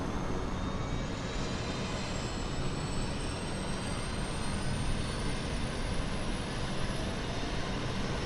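CRJ700 auxiliary power unit spooling up in a flight simulator, a steady broadband whine and rumble with a high tone slowly rising, continuous and moderately loud with no talk.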